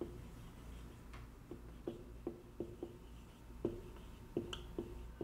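Pen strokes scratch across paper while a formula for cost of sales over average inventory is written out, a series of short, quiet, evenly spaced taps and scrapes, close by, with no talking.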